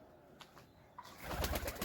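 Native (deshi) domestic pigeons, recently recovered from illness, give a faint coo that swells into louder fluttering and rustling near the end.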